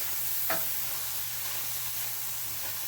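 Garlic sizzling in a pan, a soft continuous frying hiss with one brief scrape near the start, no talking.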